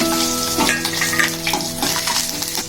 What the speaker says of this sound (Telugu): పోపు అయిన తర్వాత వెల్లుల్లిపాయలు వేయించుకోవాలండి.